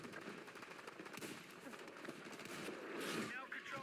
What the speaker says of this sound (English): There's someone shooting at me too